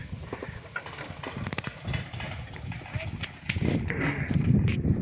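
Horse hooves clip-clopping at a steady walking pace on a hard surface, with outdoor rumble and background noise building toward the end.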